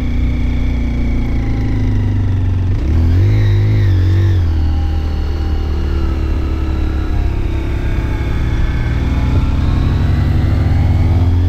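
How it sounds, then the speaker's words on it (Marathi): A 150cc motorbike engine strains up a steep hill in second gear, a loud, close, continuous drone with a rising whine as the revs climb, and no voices. "आता बघा सेकंड गिअरला गाडी ओरडायला चालू केली"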